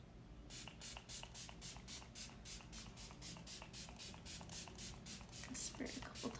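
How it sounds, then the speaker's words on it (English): e.l.f. setting spray is pumped onto a face in a rapid series of about twenty short, close, hissing bursts, with a faint voice near the end. "Okay, so now I'm gonna go in with my e.l.f. setting spray."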